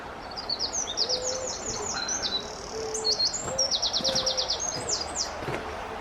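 Small bird singing steadily by a riverside path in Dunster, bright chirping phrases repeating throughout at moderate distance over faint outdoor background.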